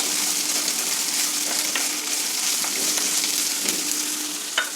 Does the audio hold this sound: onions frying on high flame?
yes